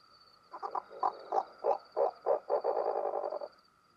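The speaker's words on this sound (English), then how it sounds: "Both birds are intimidated by the call of the fiercely predatory dusky horned owl" A dusky horned owl calls with a series of deep, rhythmic hoots that speed into a rapid throaty trill, fairly close and alone over a faint steady insect-like whine.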